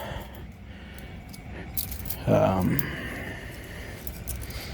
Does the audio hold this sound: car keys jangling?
yes